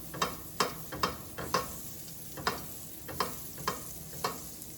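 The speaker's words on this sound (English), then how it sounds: "I have some butter here, some unsalted butter. I'm just gonna kind of coat the pan like this." Unsalted butter sizzling in a preheated pan on medium-high heat, with a steady hiss broken by about ten sharp spatula scrapes and taps spaced through the clip, close and fairly quiet.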